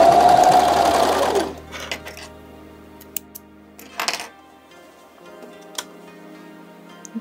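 An overlock serger stitches a knit cuff in a circle, running loud and fast for about a second before stopping, followed by quiet scattered clicks and handling of fabric and thread.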